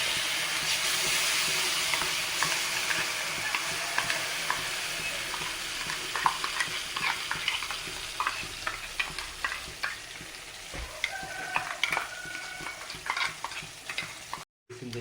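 Carrot paste sizzles in ghee in a pan as it is stirred, a close, steady frying hiss broken by frequent scraping and clicking strokes of a spoon, with one brief dropout near the end.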